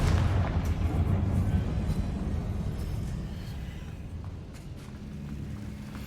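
Confringo blasting spell explosion in Hogwarts Legacy, a heavy rumbling boom that is loudest at the start and slowly fades, with some low debris-like rumble trailing after.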